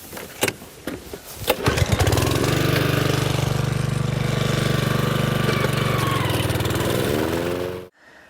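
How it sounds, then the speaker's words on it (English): A lawn mower cutting grass to prepare a site for living willow sculptures starts with a few knocks and sputters, then runs at a steady loud drone for several seconds before cutting off abruptly. "The first stage of preparing the ground is to mow the grass or cut the vegetation."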